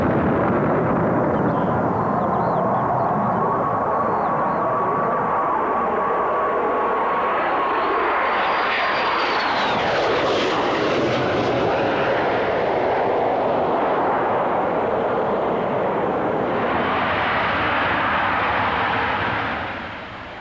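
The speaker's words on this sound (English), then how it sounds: "Coming in to hover or land, the giant flaps are lowered, giving extra lift in partnership with the thrust from the vectored nozzles of the Pegasus engine." A Harrier jet with its Pegasus engine roars loudly and continuously throughout, a broad jet roar with a rising whine partway through, then fades slightly at the very end.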